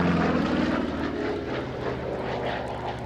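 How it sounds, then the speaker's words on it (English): A P-47 Thunderbolt warbird flies an air show routine with its engine powering the plane back up from a low pass below the treetops, giving a loud, steady, full roar throughout. "Once again, down there below the treetops, powers that airplane up again."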